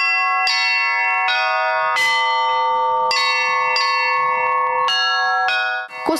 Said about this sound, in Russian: дядя Костя, бьет в колокола звонницы, появившиеся рядом со строящимся храмом недавно